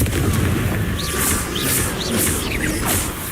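Spell blasts from the Hogwarts Legacy video game, cast as Confringo fire spells: a dense, continuous roar of booming bursts with bright, whooshing flares recurring roughly every half second.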